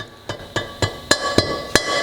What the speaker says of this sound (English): we're going to get a dead blow hammer and give it a couple gentle taps